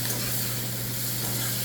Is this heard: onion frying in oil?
yes